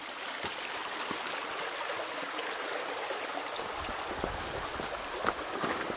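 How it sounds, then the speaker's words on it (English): A creek runs with a steady broadband rush and splash of flowing water, close and continuous, with small irregular droplet ticks on top and no voices. "And this is the creek."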